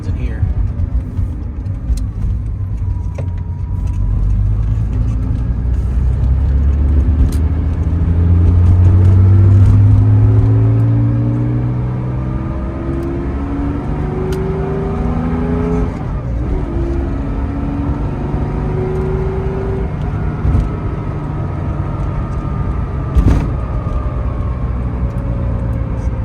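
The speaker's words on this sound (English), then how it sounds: "That SSI exhaust sounds so good." A 1983 Porsche 911SC coupe's engine drones and rises through the gears as it drives, its SSI sports exhaust rumbling loud and close for a long stretch, with a voice speaking occasionally.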